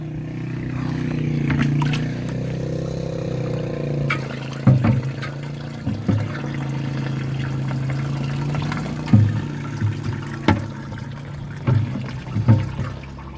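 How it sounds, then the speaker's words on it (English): Water poured from a container into a rusty gas tank being cleaned of rust with acid, a steady low sloshing gurgle with intermittent sharp clunks and splashes from handling the container, close and continuous. "Try to put this water in before it overflows."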